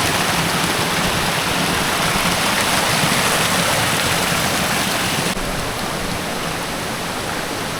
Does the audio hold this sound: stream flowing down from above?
yes